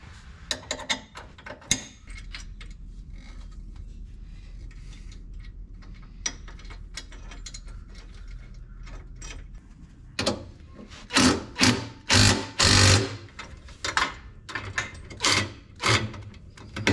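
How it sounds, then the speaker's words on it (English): A trailer hitch is bolted onto a Kawasaki Mule with grade 8 bolts, with scattered clicks and ratcheting at first, then louder, close bursts of rapid mechanical ratcheting. "Let's bolt the sucker on and tow something."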